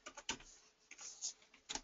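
A few faint, scattered keystrokes tap on a computer keyboard in a quiet room, the light clicks coming irregularly over under two seconds.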